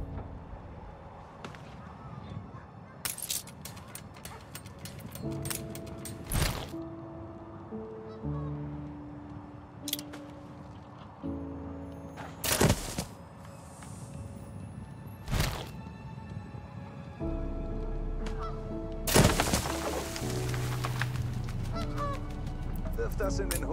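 Geese honk at a goose farm in Anno 1800, repeated calls at a moderate distance over steady game ambience and background music.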